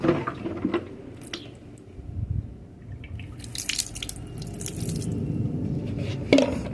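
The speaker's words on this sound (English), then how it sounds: "I'm just going to continue watering this so that it doesn't dry out." Water poured onto a Japanese flowering quince bonsai (Chojubai) being started as a root-over-rock planting, giving close, soft dripping and splashing over several seconds.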